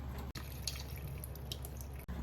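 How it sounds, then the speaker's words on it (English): Liquid drained from an opened can of chicken, a steady close splattering trickle and dripping with brief gaps, heard alone without talk. "we're gonna open up this can and dump out the liquid inside"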